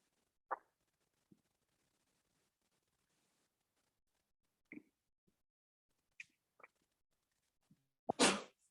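A single loud, close sneeze bursts out near the end of a quiet yoga class, preceded by a few faint scattered clicks and shuffles.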